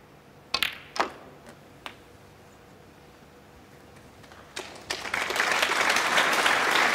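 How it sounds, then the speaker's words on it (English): Snooker audience at the 2018 Champion of Champions breaks into applause after a few isolated claps, the clapping swelling into sustained, fairly loud applause over the final seconds. "Applause"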